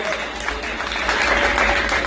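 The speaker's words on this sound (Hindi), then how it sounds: "तो एक तालियां हो जाए" An audience at a Ganesh pandal gathering claps together in steady, moderately loud applause, with background crowd murmur and a voice faintly present.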